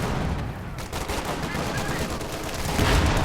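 Rapid bursts of gunfire and machine-gun rattle crackle continuously through a World War II battle in the Company of Heroes 2 video game, dense and loud with no pauses.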